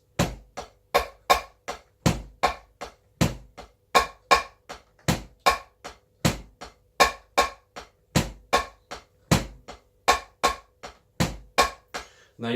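A basic drum kit groove of kick and snare plays alone in a steady, evenly spaced rhythm of crisp, punchy hits that repeats throughout.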